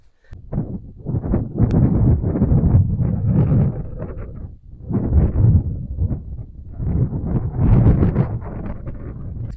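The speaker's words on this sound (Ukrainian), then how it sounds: "Дивіться, бачите, який вітер зносить" Steady wind buffeting the microphone on a cold autumn lakeshore while carp fishing, a loud continuous rumble that swells and eases in gusts throughout, with no voices.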